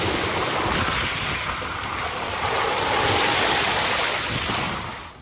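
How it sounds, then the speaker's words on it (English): Water gushing through a garden like a river, a steady loud broadband rush and roar that swells slightly midway and eases off at the end, with no talk. "Look at all the water. Oh, it's like a river."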